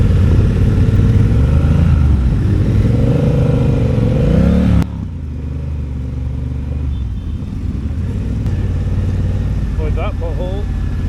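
Motorcycles on a slow group ride, engines rumbling and revving with rising and falling pitch before settling into a lower idle, under wind noise, while riders talk.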